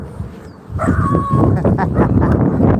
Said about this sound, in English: What are you barking at those doggies?